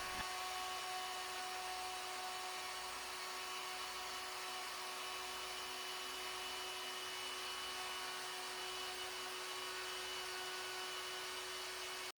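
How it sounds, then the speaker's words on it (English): A DIY CNC router carves lettering into a sign, its cutter head producing a steady high-pitched whine with no dust collector running, constant and unbroken throughout. "I'm not using the dust collector for this cut to allow you to see the cutter head in action."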